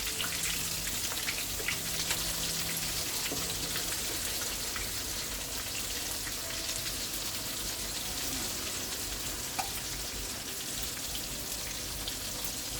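Chicken pieces frying in a skillet for a Southern fried chicken meal, a steady soft crackling sizzle with occasional faint pops, even and continuous, no talk.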